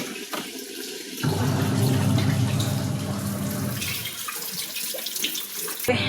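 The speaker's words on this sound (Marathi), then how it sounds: "आपण नळ चालू केला होता तो बंद करूयात पाणी भरलं असेल" Water gushes steadily from a tap into a container, a loud continuous splashing stream that eases slightly toward the end, with quieter moments at the start.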